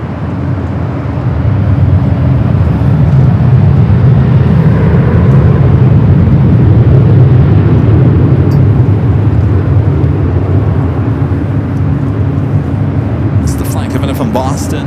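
A Southwest airliner takes off from runway 24 left at LAX, a loud, steady, low jet roar that holds for about fifteen seconds with little change in strength.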